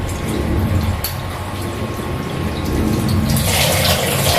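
Fish heads being washed by hand under running tap water, a steady close splash and trickle that grows louder and brighter near the end.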